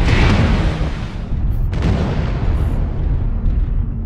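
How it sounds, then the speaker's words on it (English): Artillery shells strike in a mech combat video game with heavy, rumbling booms. The blasts roll continuously, loud and close, with a sharp burst partway through. "Artillery strike."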